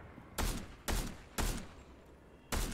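Four loud, sharp gunshots in a shooter video game, evenly spaced about half a second apart with a pause before the last, each with a short decaying tail; no voices.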